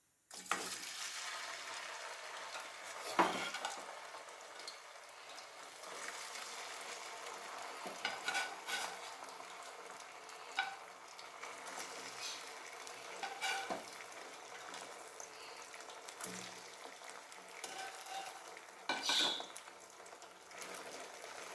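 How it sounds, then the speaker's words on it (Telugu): Boiled chicken pieces fry in hot oil for a Telugu-style chicken pickle, a steady soft sizzle broken by repeated scraping stirs of a spoon in the pan, with no talking. "ఇప్పుడు ఉడకబెట్టుకున్న ముక్కలు ఇప్పుడు ఈ ఆయిల్లో వేసేద్దాం."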